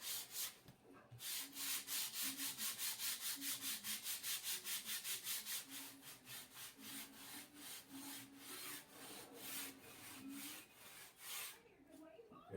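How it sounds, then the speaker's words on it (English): Rhythmic back-and-forth sanding of styrofoam shaped into a model race track base, steady rasping strokes close and loud, slowing and becoming more uneven toward the end. "You just sand around."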